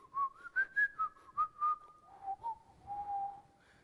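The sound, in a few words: whistling sound in the room's roof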